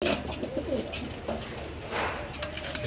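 Pigeons coo on a rooftop in Devna Mandi, Gujrat, a close, continuous run of throaty calls with faint background noise and no clear talk.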